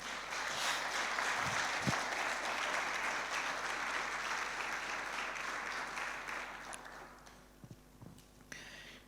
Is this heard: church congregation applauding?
yes